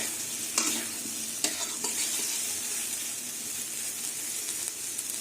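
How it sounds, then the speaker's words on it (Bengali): A steady, gentle sizzle of pumpkin frying over a low gas flame, broken by a few soft scrapes and clinks of a spatula stirring the pan. "গ্যাসের আগুনটা কিন্তু একদম কমিয়ে দিয়েছি কমিয়ে দিয়ে ভাজতে হচ্ছে"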